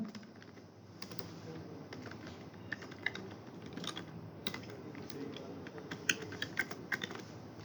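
Fingers typing text on a computer keyboard during a coding lesson, quiet irregular key clicks in short bursts, close and faint over low room hum.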